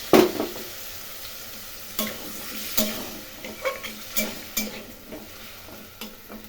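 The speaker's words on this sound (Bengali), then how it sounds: "এখন কষিয়ে নেব ভালো করে" Cauliflower curry being stir-fried in a pan, a steady sizzle broken by repeated spatula scrapes and knocks against the pan at irregular intervals, close up with no talk.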